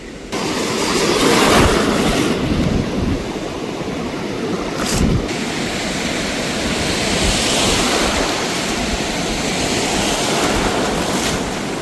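Rough sea surf crashing continuously on Murud Beach during a cyclone, loud and roaring with wind, close by and with no voices.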